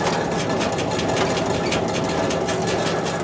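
A freshly oiled spreader machine runs smoothly at close range, giving a steady, loud mechanical whir and rapid rattle that holds constant throughout.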